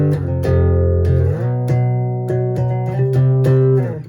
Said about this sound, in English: a lot of guitarists just use power chords